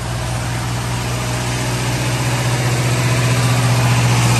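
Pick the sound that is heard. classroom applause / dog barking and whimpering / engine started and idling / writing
engine started and idling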